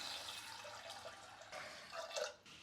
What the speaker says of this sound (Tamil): தண்ணி செவ்வரிசி முழுகிற அளவுக்கு ஊற்றிக்கலாம்.